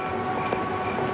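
A subway train rumbles steadily through a big station where several lines meet, loud and close, with a faint tonal whine over the roar.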